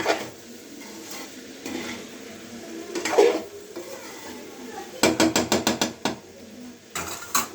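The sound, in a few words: stirring cauliflower with coriander in a pan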